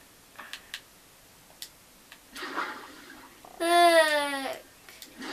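Swimming in water in the Candycraft video game: scattered small clicks and soft splashy bursts, then a louder bubbling, gurgling swell near the end, all fairly quiet and heard alone.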